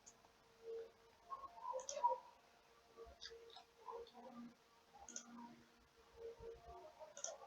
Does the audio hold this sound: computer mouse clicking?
yes